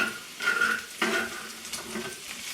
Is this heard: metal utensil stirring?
yes